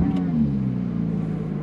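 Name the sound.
Porsche GT3 RS engine sound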